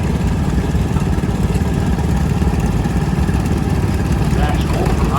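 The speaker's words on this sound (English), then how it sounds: "It's a 1950 John Deere Model A." A 1950 John Deere Model A tractor engine runs steadily at a close, loud level during an antique tractor parade, with a continuous low chugging rumble and crowd noise in the background.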